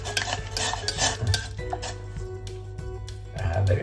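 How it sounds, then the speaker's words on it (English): A hot metal spoon scrapes and clinks against a pot while breaking up umeboshi in hot broth, with irregular close taps and stirring scrapes amid a low hum. "I might just break it up a little bit with the spoon"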